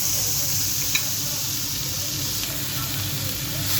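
Tomatoes hitting a small amount of hot oil while cooking fish sarciado give off a steady, close sizzle with soft frying crackle, continuous throughout with a faint clink near the start and no talking.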